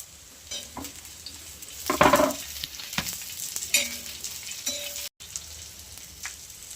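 Garlic hits hot oil in a pan for a cauliflower curry, sizzling steadily, with a louder burst of frying and stirring early on and a few scraping stirs after, close and fairly quiet with no talk.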